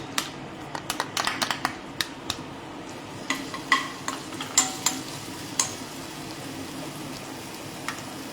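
Ginger, chili and garlic paste frying in hot oil over a high flame, with crisp sizzling crackles and sharp clinks of a spoon against the pan, busy at first and then thinning to sparse pops.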